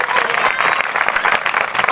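A church congregation at a healing service claps loudly together in a dense, steady burst of applause, with voices mixed into the crowd.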